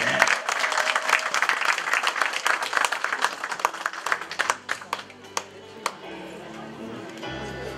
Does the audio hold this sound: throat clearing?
no